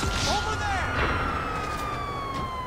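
A wailing police car siren from the video game GTA 5 rises and falls through the clip, steady and fairly loud beneath excited voices talking over it.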